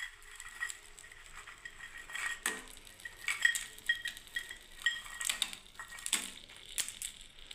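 Fried homemade bori dumplings tipped into a cooking pan, a series of light clattering, scraping and crunching knocks against the metal, fairly quiet and close with no talking.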